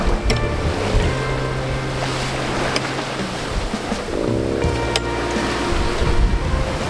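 Ocean waves washing around a sailing boat, a loud continuous rush of water and wind with faint tonal hums and occasional sharp knocks from the boat.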